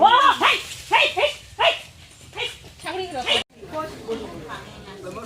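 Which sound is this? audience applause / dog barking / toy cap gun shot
dog barking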